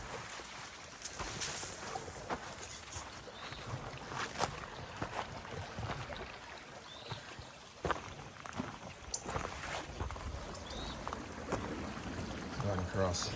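A hiker wades across a creek on an overnight camping trip, with continuous rushing and splashing water mixed with wind buffeting the microphone, close and noisy. A voice speaks faintly in the background.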